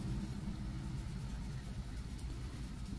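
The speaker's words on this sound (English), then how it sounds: "my window's open, so you're going to hear traffic going by" A low, steady rumble of passing traffic heard from indoors, faint and continuous with no distinct vehicles standing out.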